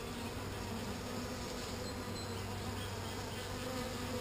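A dense, steady buzzing of many honey bees in a beetle-infested hive, close by, continuous and unbroken throughout with no voices.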